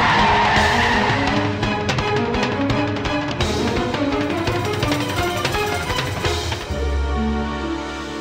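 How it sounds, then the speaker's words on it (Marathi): A car brakes hard and its tires squeal and skid for several seconds before it settles to a stop, loud and close, with a low idling rumble at the end. "गाडी थांबव मुलीजवळ"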